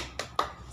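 Students in a classroom perform the 'tepuk semangat' clapping chant, two sharp, separate claps in quick succession, close and crisp against a quiet room.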